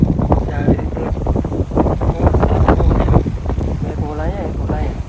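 In a village sesame field at harvest, steady wind roars and buffets the microphone while people talk over it.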